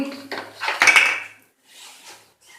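Yogurt whisked in a bowl for a chicken roll paratha sauce: a short burst of utensil clinks and scrapes against the bowl, then a few faint, softer taps.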